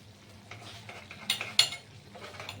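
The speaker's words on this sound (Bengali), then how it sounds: "একটু ঘি দিয়ে এবার একটু নাড়িয়ে নিই" A spoon stirring ghee and garam masala into a pan of potato curry (aloo dum), faint scrapes and a few sharper clinks against the pan over a low sizzle.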